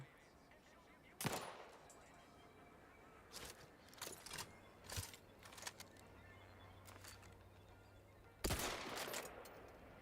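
Gunfire in the sci-fi RPG The Outer Worlds 2: a few sharp shots and short bursts, widely spaced, with a loud one near the start and another near the end, over a low steady hum.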